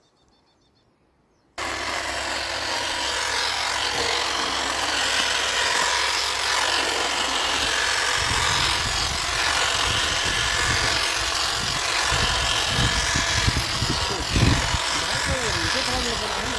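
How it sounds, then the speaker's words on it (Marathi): A battery-powered grass cutting machine runs with a steady high-pitched whine, changing to a rough cutting buzz as it chews through grass, with talking over it. "हे मशीन घास कापणीचं काम कशा पद्धतीनं करते"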